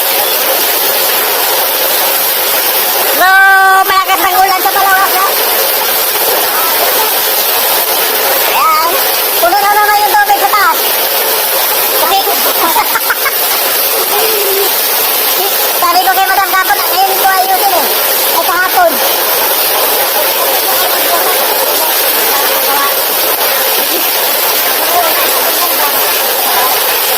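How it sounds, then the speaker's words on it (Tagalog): Heavy rain pouring in Palawan, a loud, unbroken hiss of falling water that persists throughout, with a few short bursts of speech over it. "So, malakas ang ulan sa Palawas, ha?"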